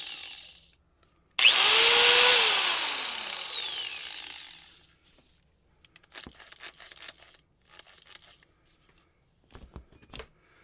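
A Warrior 4.5-inch, 4.3-amp corded angle grinder is switched on with a loud whine and spins down over a few seconds, followed by scattered clicks and handling noises.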